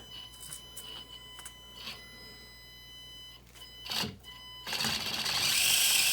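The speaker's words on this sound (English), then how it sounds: "The servo keeps turning just because it's got some flex in the link and the stock servo saver" Stock servo of an Axial SCX24 RC crawler straining against flex in the link and servo saver while stuck, a thin whirring buzz in short bursts that swells louder and harsher toward the end.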